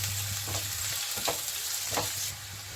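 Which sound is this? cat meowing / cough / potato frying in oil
potato frying in oil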